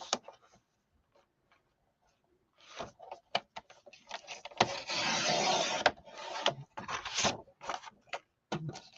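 A hand trimmer cuts about 1.5 inches off a piece of material, giving close, irregular scraping and snipping sounds that start after a quiet stretch and swell into a denser rasping run midway.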